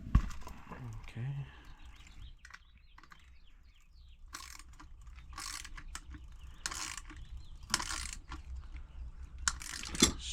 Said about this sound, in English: you can get like a socket or a fixed wrench and just try and get it off of there